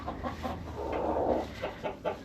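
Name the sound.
backyard laying hen clucking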